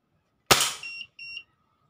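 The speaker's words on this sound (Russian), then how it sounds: "Кроссман, выстрел" A single sharp, close shot from a Crosman 1377 air pistol cracks once, followed by two short high electronic beeps from a chronograph, then silence.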